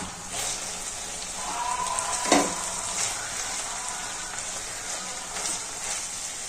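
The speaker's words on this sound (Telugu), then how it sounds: "బాగా నూనెలో బాగా వేగాలండి." Gravy sizzles and crackles steadily in hot oil for a hotel-style sherva, a close, continuous frying hiss with a brief stir or clatter partway through.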